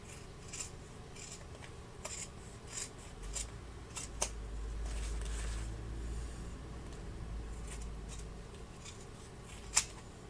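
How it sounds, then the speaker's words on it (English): Scissors snip and slide through excess fabric along the bottom of a handmade pack, a faint sequence of soft cutting rasps and scattered clicks close by in a quiet room, with no talking. "I do have some excess along the bottom that I want to trim off just so everything lays nice in the end."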